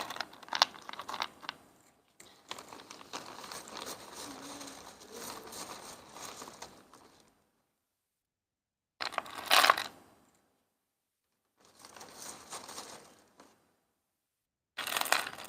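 Pieces of 1-inch clear fire glass are handled for a resin Christmas tree painting, giving several bursts of clinking, rattling glass separated by quiet pauses, close and moderately loud, with no talk.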